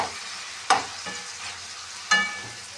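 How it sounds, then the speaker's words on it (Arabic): Meat being stirred in a hot pan, with a steady low sizzle broken by two sharp scraping stirs of the spoon and a fainter one between them, close and fairly quiet. "طبعا هنبتدي نقلب كده، نقلب لحد ما تحمر شويه او لونها يغير حاجه بسيطه قوي"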